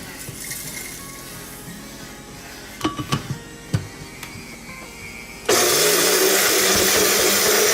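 Smoked garlic being ground in a blender, a loud steady whirring roar that starts abruptly partway through after a few clinks and knocks and then runs on at full strength.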